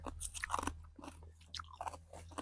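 Someone eats spicy forest-style papaya salad with grilled fish outdoors in a forest, the crunchy bites and wet chewing close to the mic in quick irregular bursts.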